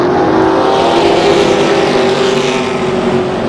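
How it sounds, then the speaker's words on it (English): Late model race cars roar around Tucson Speedway, a loud, continuous engine drone with a steady pitch, with no talk over it. "And she and Shelby will do that little drag race down the backstretch."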